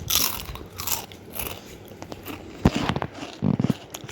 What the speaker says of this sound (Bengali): সেই দিয়ে এখন মুড়ি খাবো, আর দুটো পাঁপড় ভেজেছি খাবো